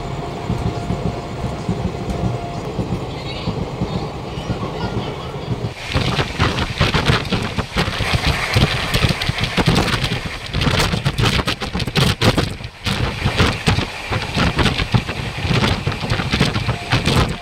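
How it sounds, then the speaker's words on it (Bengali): The Darjeeling Mail running, with steady rumbling and clattering from the train, then a louder, denser rattle midway that continues to the end. "বর্ধমান জংশনের পর এখন ট্রেনটা এসে পৌঁছালো বোলপুর শান্তিনিকেতনে।"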